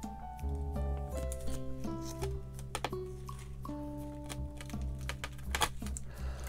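A knife slices through a peanut butter cup with a potato chip inside, giving a few small, crisp cracks and clicks, quiet and close, with soft rustling between them and no talking.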